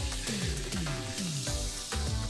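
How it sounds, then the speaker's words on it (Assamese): Steady sizzling of food frying in a pan, with some pitched sounds rising and falling over the crackle. "এইখিনি এতিয়া ধুনীয়াকৈ ভাজি লৈছোঁ।"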